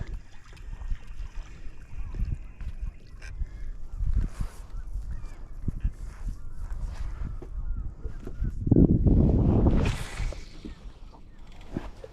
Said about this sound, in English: The gulls are circling. They're obviously hungry for a feed.